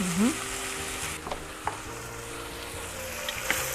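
Butter melting and sizzling in a pan with minced meat for a traditional potato moussaka, a steady soft frying hiss with occasional stirring clinks and scrapes, fairly close and alone.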